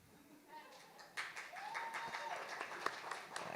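Audience at a comedy show breaks into applause and cheering, building from a quiet start into steady, dense clapping with scattered shouts for the rest of the stretch.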